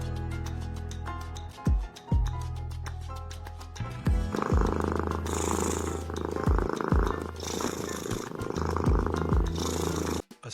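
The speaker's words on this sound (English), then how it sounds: "A soft purr," A domestic cat purrs close and steady in a slow cycling rhythm, with soft music running underneath throughout.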